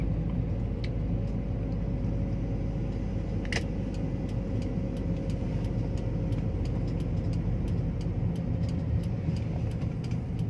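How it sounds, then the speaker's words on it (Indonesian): A 2007 X-Trail manual drives over a rough, corrugated road, giving a steady, continuous low rumble with faint rattles and clicks from the cabin, heard alone without talk. "kita masuk jalan yang memang kurang bagus ini, jalan keriting ya"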